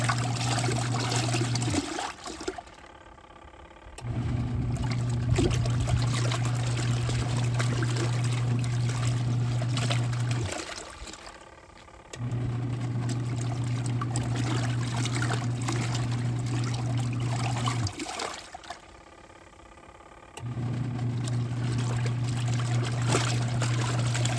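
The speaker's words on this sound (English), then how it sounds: "I'm just gonna fill it kind of like halfway, not all the way to the top." Xtra Plus Odor Blasters liquid pours into a container in three long, steady trickling runs separated by short pauses, close and continuous, resembling water running from a tap.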